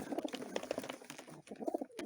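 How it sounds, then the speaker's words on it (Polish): A pigeon coos softly in low, repeated throaty notes, faint and close amid quiet background noise. "Ten niby tak grucha"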